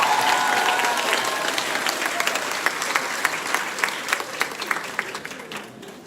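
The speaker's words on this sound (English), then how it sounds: "Clap them better than that." Renewed clapping fills a Grade 11 graduation ceremony at Discovery Bay High School STEM Academy, a thick wash of applause that starts strong, then thins into sharper scattered claps as it fades.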